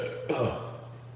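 One short, low burp rumbles up close after a sip of beer, rough and throaty, fading quickly over a steady background hum.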